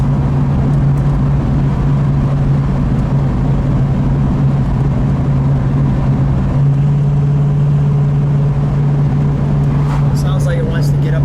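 A 1969 Mercury Cyclone Spoiler with a 351 engine drives along a two-lane road, its steady low engine drone continuing throughout with a rise in intensity near the end, loud and close with voices talking over it.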